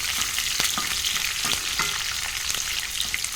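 Chopped onion sautéing in oil in a pan, a loud continuous sizzle with several sharp scraping knocks from stirring scattered throughout.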